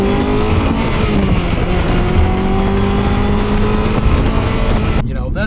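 A Ferrari 355 V8 revs with rising, harmonic-rich engine tones that climb and hold, loud and close against wind rumble, before cutting off near the end.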